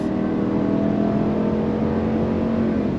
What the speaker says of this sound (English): On throttle. 10-speed drops down and we're off.